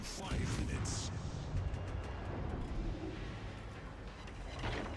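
Naval guns boom in the World of Warships Legends game, dense heavy blasts rumbling over the battle while someone talks over the action throughout.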